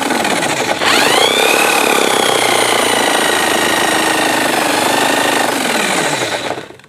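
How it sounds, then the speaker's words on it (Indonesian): A high-pitched electric drill spinning a generator built from a motorcycle coil whirs up to speed and holds a steady, loud whine before winding down at the end. "sementara saya menggunakan bor dulu untuk memutarnya"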